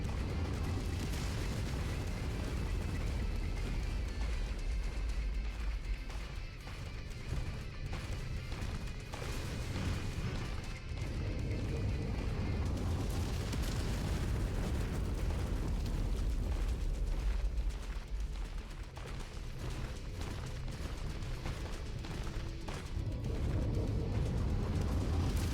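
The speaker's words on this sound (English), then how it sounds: "They just turned on artillery." Artillery explosions in a military video game, a continuous dense wall of booming blasts and rumbling debris, loud and sustained throughout with no clear gaps between impacts.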